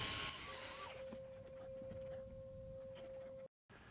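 A Ryobi PBF102 18V detail polisher on speed 1 whines at a steady pitch while polishing a headlight, running continuously and fairly quietly before cutting off briefly near the end.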